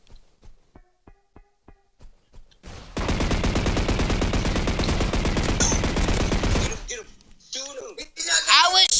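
Energy Assault video game gunfire: a series of single spaced shots, then a loud sustained rapid burst of automatic fire for about four seconds, followed by voices and game effects.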